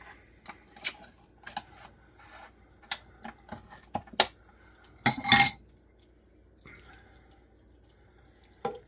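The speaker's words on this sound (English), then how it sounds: "I'm going to go ahead and open the Carnation." A can of Carnation evaporated milk being opened in a kitchen, with sharp metallic clicks and taps, then a louder scraping pop of the lid, followed by a quieter stretch.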